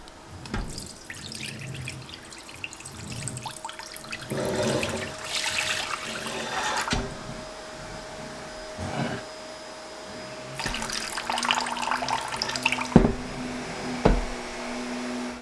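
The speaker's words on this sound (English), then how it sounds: "So I'm gonna slowly pour off some of my whey." Whey is poured off during Gouda cheesemaking, giving intermittent splashing and trickling bursts of liquid with quiet gaps between pours, fairly soft and close.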